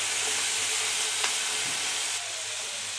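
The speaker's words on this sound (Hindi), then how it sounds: "कलेजी का कलर चेंज होने तक इसको भून लेंगे।" Garlic and goat liver fry in a pan with a steady loud sizzling hiss and a faint stir or two, and no talk.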